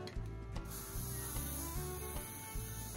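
Hairspray hisses onto a wig in a long, steady close burst that keeps going, with faint clicks and handling noise underneath.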